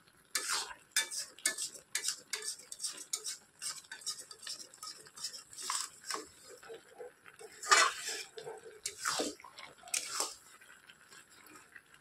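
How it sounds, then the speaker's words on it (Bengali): A spoon stirs spices into a jujube (kul) pickle in a pot, making irregular scraping, knocking and clinking bursts over about twelve seconds, close and fairly loud with brief pauses between strokes. "মশলাটা দিয়ে দিলাম, এবার ভালো করে মিশাইয়া দেব।"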